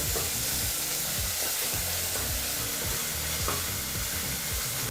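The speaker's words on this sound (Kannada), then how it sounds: "ಎಣ್ಣೆನಲ್ಲಿ ಈ ರೀತಿ ಈರುಳ್ಳಿನ ಫ್ರೈ ಮಾಡಬೇಕಾದ್ರೆ ಮೀಡಿಯಂ ಫ್ಲೇಮಲ್ಲಿ ಫ್ರೈ ಮಾಡ್ಕೊಳ್ಳಿ" Onions frying in hot oil over a medium flame, a dense, steady sizzle with stirring scrapes throughout, close and loud, with no talking.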